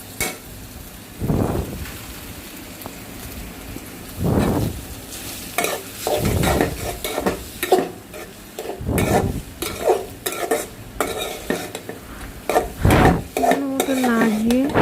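Noodles cooking in a pan crackle and sizzle as a spoon scrapes and stirs them in repeated strokes. The clatter of utensil against the pan is close and fairly loud, and no one speaks.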